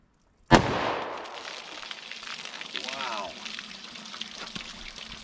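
A .357 Magnum fired from a short barrel gives a single sharp, loud crack into a water-soaked bologna target, followed by a decaying spatter and trickle of splashing liquid.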